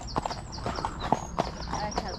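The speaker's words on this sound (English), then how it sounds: "Oh, horses." Horses walking along a path, their hooves clip-clopping in a quick uneven rhythm, fairly close but soft, with a person talking over the steps.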